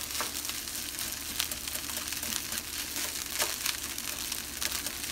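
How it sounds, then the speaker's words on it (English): Eggs sizzle steadily in a hot pan for homestyle hibachi, with a constant frying hiss broken by scraping and crackling clicks as a utensil breaks them up. "I'm just breaking up the eggs in here"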